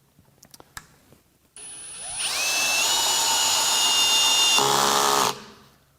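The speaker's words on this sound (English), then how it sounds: "I'm going to put this on a clutch setting of 12 on my Hart brushless drill here" A few light taps, then a Hart brushless cordless drill on clutch setting 12 spins up with a high whine, driving a screw into OSB steadily under load for about three seconds, and stops abruptly.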